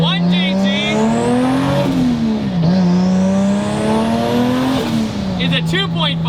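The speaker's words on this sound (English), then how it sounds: "it's maybe the best sounding inline six ever made" A Toyota 1JZ 2.5-liter inline six revs up and down in long rising and falling sweeps, loud and close, with tire squeal and a voice talking over it.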